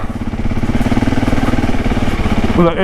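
A Husqvarna 701 Enduro single-cylinder motorcycle runs on a green lane, its engine thumping in a loud, rapid, even pulse close by, with a brief throttle blip at the end.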